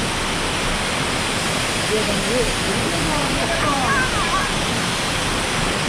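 Waterfall at Purulia pouring white, foaming water, heard as a steady loud broadband rush that fills the whole stretch without break, with faint voices barely emerging beneath the roar.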